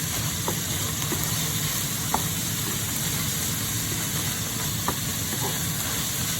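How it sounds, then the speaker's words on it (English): Onions and lean ground beef sautéing in a pan, a steady dense sizzle and hiss that runs without a break, with a few faint clicks over it. "we're gonna saute them nicely, the onions"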